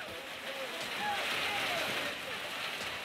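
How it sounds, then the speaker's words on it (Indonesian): Heavy rain and strong wind lash the village of Kuala Batahan in Mandailing Natal, North Sumatra, a dense roaring hiss that swells and eases under a voice speaking. "Detik-detik hujan disertai angin kencang melanda desa Kuala Batahan"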